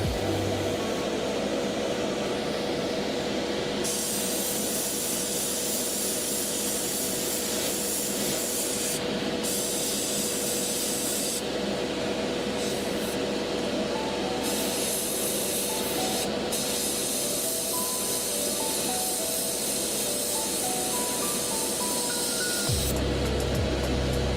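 Aerosol paint hisses in a light spray over the rear hooves of a miniature model. The steady hiss runs for over twenty seconds, broken by a few short pauses, with no voices.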